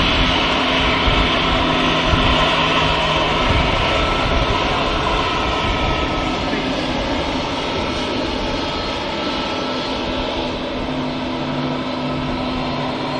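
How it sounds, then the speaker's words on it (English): An easyJet Airbus A320 departing Manchester for Munich gives a steady, loud jet engine roar throughout, broad and sustained with a faint tonal whine, without any voices. "EasyJet A320 off to Munich"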